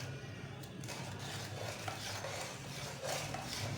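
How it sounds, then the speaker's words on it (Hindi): A spoon stirs hot and sour chicken soup in a pot, a faint continuous scraping and light clinking against a soft background simmer. "ये देखिए साथ ही साथ चम्मच हिलाते रहेंगे।"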